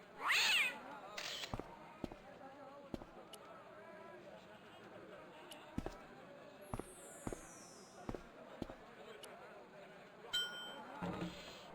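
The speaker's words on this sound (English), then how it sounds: "That's not a very friendly cat." A cat in the game Broken Sword: Shadow of the Templars gives a brief, unfriendly meow near the start, followed by scattered sharp thuds and clicks across a quiet game background.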